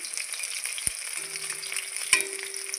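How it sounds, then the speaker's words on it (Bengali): Mushroom pakoras deep frying in hot oil, a close, even bubbling sizzle broken by two brief knocks of a utensil. "এই 4টে নামিয়ে ওগুলো ভেজে নেব একইভাবে উলট পালট করে"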